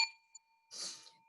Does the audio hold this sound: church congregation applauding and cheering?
no